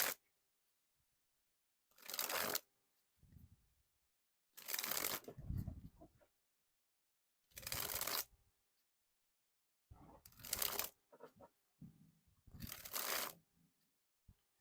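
Theory11 Spider-Man playing cards dribbled from hand to hand, five separate fluttering bursts of cards cascading with short pauses between, close and clear with no talking.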